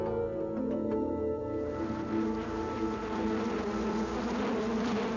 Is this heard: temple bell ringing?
no